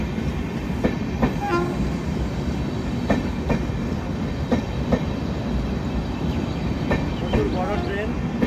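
The Kolkata–Sairang Express, a long train of new coaches, rolls into Murshidabad station with a steady low rumble and rhythmic wheel clatter over the rail joints, loud and close throughout, with voices in the background.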